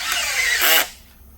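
An impact gun tightens a 10 millimeter power steering bolt on a vehicle in one short, loud whirring burst that cuts off abruptly.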